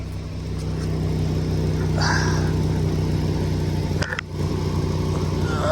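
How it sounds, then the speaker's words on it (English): A V10 Ford Excursion idles close by with a steady, throbbing low exhaust drone from a muffler leak, with a brief squeak and a clunk partway through. "see if we can find that muffler leak"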